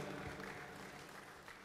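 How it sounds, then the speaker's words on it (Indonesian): Applause at a Partai Demokrat gathering for party senior Letnan Jenderal TNI Purnawirawan EE Mangindaan, a dense, steady wash of many hands clapping heard faintly from a distance, with no break. "tepuk tangan buat Pak Mangindaan."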